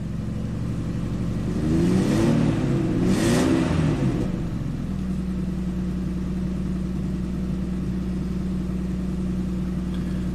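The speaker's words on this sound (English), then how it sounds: "so give it a little gas" A Mitsubishi Montero 4x4 engine idling while warming up, briefly revved with a rising and falling throttle blip, then settling back to a steady hum, loud and close, no talk.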